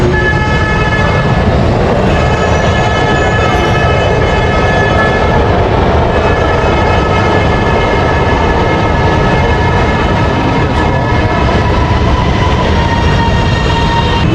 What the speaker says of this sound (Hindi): ये देखें, अभी एक ट्रेन आ रही है हमारे पास।